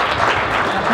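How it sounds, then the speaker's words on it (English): Audience applause at a live Curiosity Show performance at the 2015 Adelaide Mini Maker Faire: dense, steady clapping from a crowd, loud and sustained for the whole short moment. "Round of applause for Colin."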